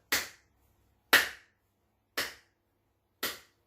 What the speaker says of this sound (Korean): 사람 노래 부를 때 이렇게 박자에 맞춰가지고 이렇게 박수 치는 거